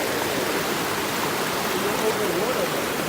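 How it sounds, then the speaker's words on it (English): A creek on a farm runs steadily with a dense, broadband rushing of water, loud and continuous, and a faint voice is barely discernible beneath it. "So this creek runs down there."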